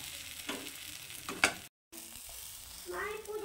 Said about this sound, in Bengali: আর একটুখানি ভেজে নেবো আমি এটাকে